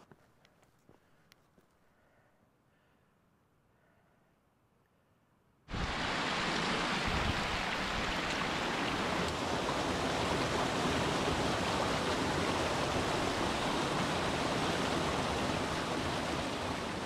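A waterfall in the Scottish wilderness: loud, steady broadband roar of falling water that bursts in after several seconds of quiet outdoor ambience and then holds constant to the end.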